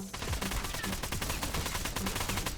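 Rapid FAL rifle fire in a video game zombies mode, a dense run of sharp, loud shots in quick succession filling the whole stretch with no pauses or talk.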